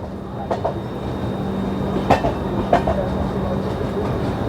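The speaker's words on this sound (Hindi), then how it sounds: "सामने से कोई ट्रेन आ रही है" A train rolls along the railway on the Delhi to Ranchi Jharkhand Sampark Kranti route, giving a steady low rumble broken by a few distinct wheel clacks and knocks, close and fairly loud, without speech.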